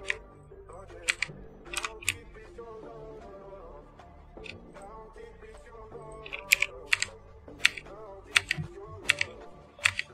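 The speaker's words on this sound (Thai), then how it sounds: "คีย์บอร์ดแม่งเสียงดังดีมากเลยนะแบบไมค์ดูดเข้าไปกรุบๆๆๆๆเลยอ่ะ" A loud computer keyboard clacks close to the microphone in quick, irregular bursts of keystrokes, with a voice talking faintly underneath.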